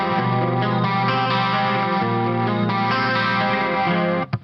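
Distorted ESP Mirage Custom electric guitar from 1987-88 through an EMG 81 bridge pickup, a loud sustained chord ringing thick and mid-heavy with a chorus-like shimmer, cut off abruptly at the end.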